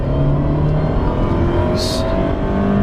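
A loud, deep 1.4-liter turbocharged engine of a 2017 Fiat 124 Spider rumbles steadily from close by, a throaty continuous drone with a slight rise in pitch.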